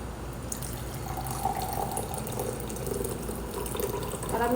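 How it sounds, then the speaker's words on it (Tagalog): Water pours out of a pot of freshly cooked food in a steady, continuous splashing stream, like running liquid into a sink, close by and fairly even in level over a few seconds. "Tapon ko muna ang tubig ko."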